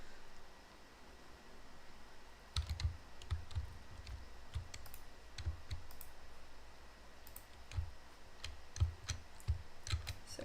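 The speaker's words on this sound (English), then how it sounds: "How loud is my keyboard clicking?" A computer keyboard clicks in bursts of rapid keystrokes with short pauses between, close to the microphone, over a steady faint background hiss and without any talking.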